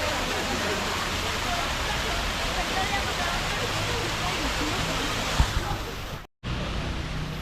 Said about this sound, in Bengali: এটি একটি প্রাকৃতিক ঝর্ণা।